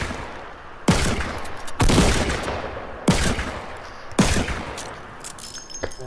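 Bursts of automatic gunfire in a 20-versus-20 video game match, four loud volleys roughly a second apart with rattling tails between them, no voices.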